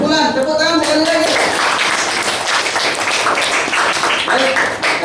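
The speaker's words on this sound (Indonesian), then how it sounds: "Tepuk tangan sekali lagi." A class of children claps together after a static electricity lesson, brisk dense applause filling the room, with a voice speaking briefly at the start.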